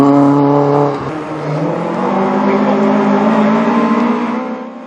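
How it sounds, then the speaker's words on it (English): Group 4 Vauxhall Chevette rally car on a forest stage in North Wales, its engine loud and near, revving hard then easing off before climbing steadily again as it drives past. "It was great to see a Group 4 Vauxhall Chevette back in the forest, and this was Stuart Anderson's first foray"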